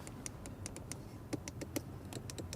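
Inside door levers on a 2024 Audi RS7 Performance with a V8 click in a quick run of small, crisp, quiet snaps, several in succession at an uneven rhythm, with no talking.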